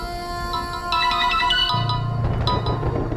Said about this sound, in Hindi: फिर से फोन आ गया उसका।